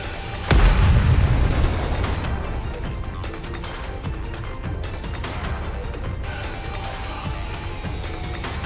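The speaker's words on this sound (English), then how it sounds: "The missiles have no homing ability. It's just firing wildly!" Missiles fire wildly and explode in the video game Stellar Blade, opening with a sharp, loud boom followed by a rumbling, crackling tail of smaller blasts and debris that slowly fades.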